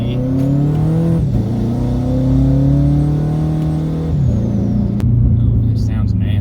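A turbocharged Toyota FRS engine drones loudly up through the gears, pitch climbing then dropping at each shift, with a faint whistle above and voices underneath.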